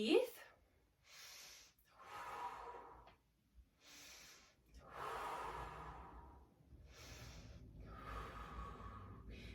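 Slow deep breathing during a yoga session, several long drawn inhales and exhales in a calm rhythm, close and soft, separated by short quiet pauses.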